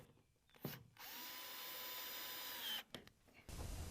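A power drill drives fasteners through soffit trim on a shed. There is a short burst, then a sustained whir of nearly two seconds, and another brief spin-up near the end. It sounds close and fairly loud.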